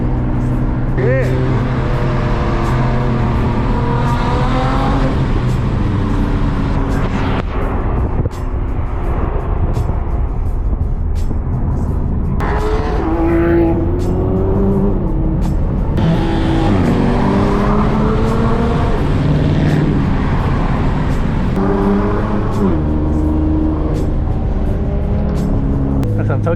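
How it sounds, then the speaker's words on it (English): Cars driven aggressively at a JDM car meet, loud engines revving and screaming past with sliding, drift-like sweeps in pitch, while excited people talk over the noise. "These guys are driving crazy."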